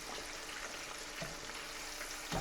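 Boned-out chicken pieces deep frying in hot oil, a dense, even hiss and bubble close by and steady throughout, with a couple of faint soft knocks.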